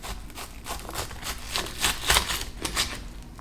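Knife chopping an onion on a cutting board for plant-based beef tacos: a quick series of close, crisp taps in an uneven rhythm, alone without talk.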